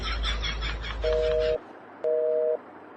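Telephone disconnect tone after a call is cut off: two identical steady beeps, each about half a second long with a short gap between, loud and close, with no talking.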